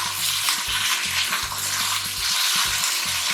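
Potato hash sizzling loudly in a frying pan for breakfast, a constant close crackle with rough stirring scrapes and clunks of a utensil against the pan.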